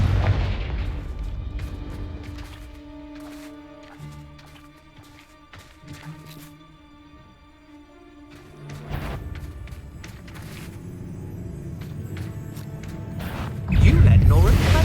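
Explosive Confringo spell blasts from Hogwarts Legacy go off in repeated sharp booms amid game combat, with characters speaking between the hits and a heavier surge of blasts near the end.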